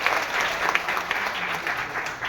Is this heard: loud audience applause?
yes